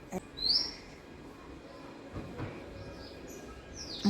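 A small bird gives a couple of brief, high chirps over a quiet outdoor background, one near the start and another at the end.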